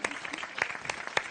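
Brief burst of studio audience applause on a French midday television show, scattered claps close together over under two seconds.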